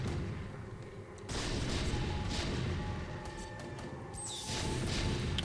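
Siege tanks fire in StarCraft: Brood War amid battle noise, a series of booming blasts and crashes with whooshes, dense and continuous, intensifying in bursts toward the end.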